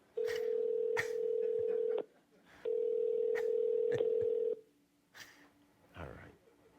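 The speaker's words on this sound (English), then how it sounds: "I'm dialing her house now" A telephone plays two long steady dial or ringback tones, each about two seconds, with brief key beeps and a little breathing in the quiet gaps, heard up close.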